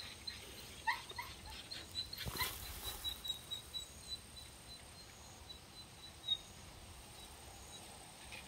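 A breeding female dog makes soft whimpers and small scuffling sounds nearby, with a few faint high yelps spread across the quiet stretch and no talking.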